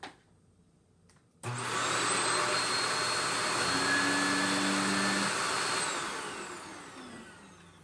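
A Shark Navigator Swivel Pro vacuum cleaner switches on after a quiet moment and runs with a steady, loud whirring motor drone that eases slightly near the end, with no talking.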